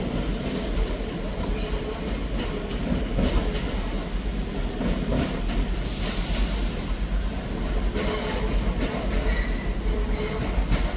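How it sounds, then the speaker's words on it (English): A ScotRail class 385 electric train at Edinburgh Waverley station, its steady loud rumble and clatter of wheels on rails continuing throughout, close, with faint squeals and no talk. "Departing out now is the 1203 Scotrail service starting here at Edinburgh Waverley to Dunblane"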